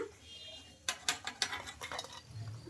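Fried tomato chips lifted from the pan onto a plate, giving a quick series of clinks and scrapes of a utensil against cookware, with a soft sizzle continuing in the background.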